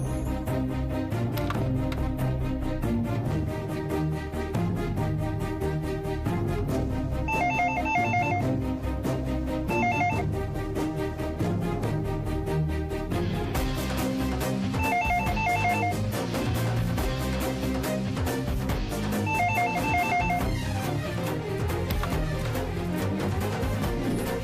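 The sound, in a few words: telephone ringing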